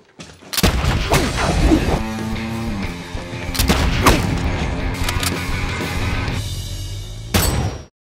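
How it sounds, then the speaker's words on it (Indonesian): Heavy gunfire and a grenade blast hit a house in the action film RED, with dense loud volleys, crashing debris and booms that run continuously, then end in a final burst. "Rumah Frank dihujani peluru. Musuh juga melontarkan sebuah granat demi memusnahkannya."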